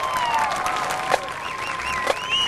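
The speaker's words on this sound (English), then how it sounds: "One last round of applause." An audience applauds after the Moorpark High School marching band and color guard perform, with dense, steady clapping and a few faint tonal sounds underneath.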